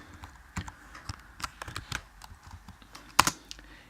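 Fingers type on a computer keyboard while entering C++ code in Xcode, producing irregular clusters of light key clicks with a sharper, louder tap near the end, close and alone with no talking.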